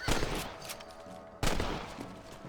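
Rifle shots in the Red Dead Redemption video game: two sharp, loud cracks about a second and a half apart, each followed by a decaying echoing tail, with faint background sound between them.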